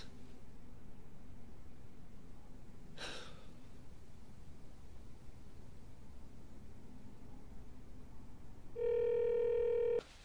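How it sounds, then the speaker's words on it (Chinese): A mobile phone rings indoors. Its loud, steady electronic tone starts abruptly after a long stretch of quiet room hiss and a single brief breathy sound, then cuts off at the end. "你手机一直响"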